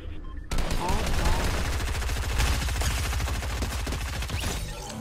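Rapid SMG gunfire from the mobile version of Fortnite played on an iPad Pro, a dense burst of automatic shots that keeps firing almost nonstop for about four and a half seconds, loud and close.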